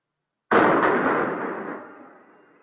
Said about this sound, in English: there's some sort of explosion that took place in this kind of open field right here between all these high-rise buildings